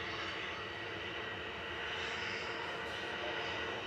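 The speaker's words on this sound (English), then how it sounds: "We got the Aer Lingus to New York taxiing out. This will be the noisiest of all these departures" An Aer Lingus jet departing Manchester Airport for New York roars steadily and loudly as it passes close by, a continuous broadband engine rumble with no talk over it.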